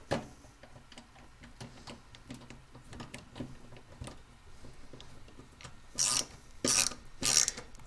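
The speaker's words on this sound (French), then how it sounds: "C'est un tournevis qui tourne que dans un sens. Vous entendez le bruit qu'il fait quand je visse?" A ratcheting screwdriver clicks in a quick, steady run of small ticks while driving a screw into a new PC during assembly, close and fairly quiet, with a few louder scraping bursts near the end and no talking.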